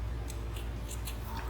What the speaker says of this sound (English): So you trim the roots, trim all the roots.